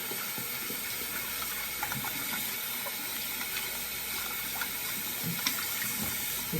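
Warm tap water streams into a sink as a powder-caked makeup brush is rinsed out, a steady close-up gush with small splashes and no voices.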